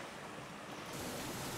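Synthesized beach-wave ambience: broad, rushing surf noise like waves washing in, a steady wash of sound that swells slightly louder toward the end.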